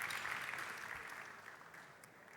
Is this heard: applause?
yes